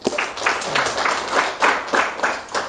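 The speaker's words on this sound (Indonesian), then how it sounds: "Tepuk tangan buat Bu Murta." A small audience claps for a guest on a school history talk show, a short burst of clapping with audible individual hand pulses, fairly close and moderately loud.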